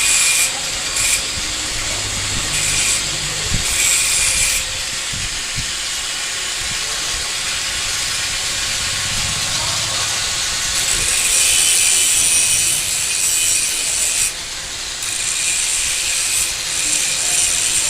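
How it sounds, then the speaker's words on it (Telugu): An angle grinder finishing the weld tacks on a homemade bush clamp tool built from a pipe clamp gives a loud, close, hissing grind that runs almost continuously, broken by a few brief dips. "పెట్టిన తర్వాత మళ్ళీ ఫినిషింగ్గా గ్రైండింగ్ చేయండి."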